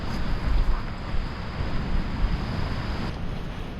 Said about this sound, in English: just can't believe how windy it was. Wasn't forecast at all, but God, it's blowing.